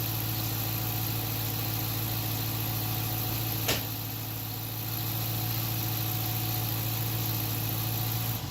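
A 2014 Dodge Charger fitted with a 100 HP nitrous setup idles steadily before shutdown, a quiet, even hum with one brief click partway through.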